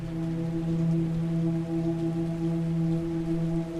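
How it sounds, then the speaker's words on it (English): Steady rain hisses over an evening city street, a dense even wash heard from a distance, with a low constant droning tone running underneath. "It's evening, and people are rushing to and fro in the rain."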